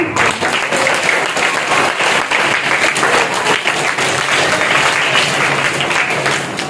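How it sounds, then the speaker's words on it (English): Loud, steady audience applause at a school prize distribution for young students, a dense continuous wash of clapping lasting several seconds, close and full. "So clap for them."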